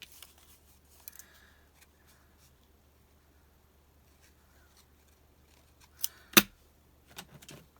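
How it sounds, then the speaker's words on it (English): Quiet room tone with a few faint snips, then two sharp, crisp scissor cuts through paper close by, followed by light rustling. "I'm just going to go ahead and do that with the scissors"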